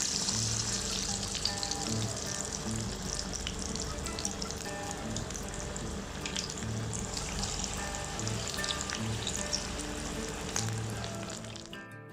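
Cauliflower 65 pieces frying in hot oil, a steady dense sizzle and crackle with a continuous bubbling hiss that holds at a fairly constant level throughout, heard alone without talk.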